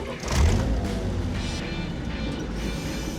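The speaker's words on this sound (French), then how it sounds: "Le Snowcat, c'est un véhicule à chenilles." A restored 1971 Snowcat, a flexible four-track tracked vehicle, drives along with a continuous low engine rumble and mechanical clatter, fairly close and steady.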